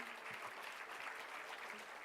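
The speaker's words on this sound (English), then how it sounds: "Let us give a grand applause for this gentleman" An audience at an academic colloquium session applauds a speaker, a faint, steady patter of many hands clapping without a break.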